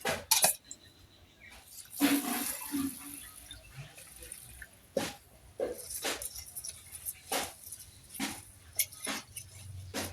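Rice and lentils are rinsed together in a pot for khichuri in a home kitchen: scattered clinks and light rattles of grains and metal come in uneven bursts, close by, with a brief murmur of voice.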